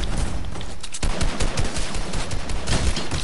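Rapid gunfire in the video game Fortnite, dense overlapping bursts of shots crackling continuously and loudly across the whole stretch.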